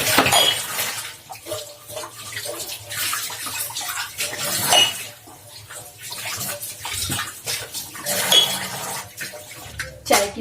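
Running water splashes into a sink while tea dishes and cutlery clink and rattle, close by and continuous for the whole stretch.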